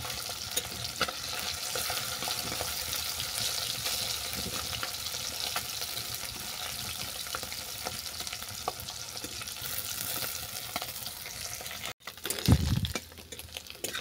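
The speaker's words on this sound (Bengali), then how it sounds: "দেখো মাছগুলো সব বাদামি করে ভাজা হয়ে গেছে।" Fish frying in hot mustard oil gives a steady, dense sizzle with scattered crackles throughout, close and fairly loud, ending in a brief bump of louder clattering near the end.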